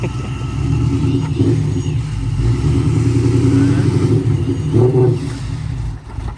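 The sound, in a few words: supercharged BMW M5 engine revving during a power skid attempt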